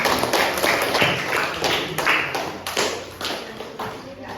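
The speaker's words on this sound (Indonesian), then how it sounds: "aplaus untuk kelompok 1" Applause for a student group in an Indonesian classroom: many hands clapping together in a steady, fairly loud patter that runs the whole time, with no talking over it.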